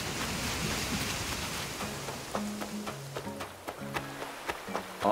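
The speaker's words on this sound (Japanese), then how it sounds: "雨か。" Steady rain patters down in Animal Crossing: New Horizons, a soft broadband hiss with light game music tones and small chimes joining in partway through.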